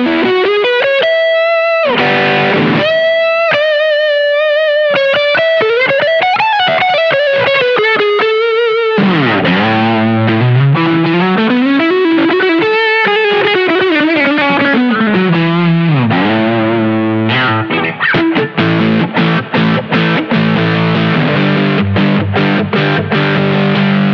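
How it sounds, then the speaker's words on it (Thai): An electric guitar plays through a distortion effects pedal, producing a thick, saturated, sustained tone across a continuous lead passage of bends and runs, ending in chopped chords, loud and upfront. "แล้วก็ไปที่สุดท้ายนะครับเสียงดิส"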